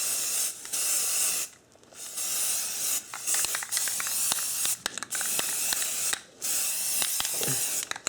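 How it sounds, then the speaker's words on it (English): An aerosol can sprays Rust-Oleum NeverWet base coat in long, loud, close hissing bursts broken by short pauses, with faint clicks and rattles from the can between passes. "It says spray 2 coats of step 1 base coat from 6 to 12 inches away."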